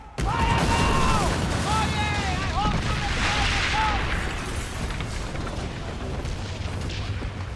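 Ship cannons firing in a naval pirate video game, a dense fusillade of booms and blasts filling the whole stretch, with a shouted voice and whistling tones over the gunfire.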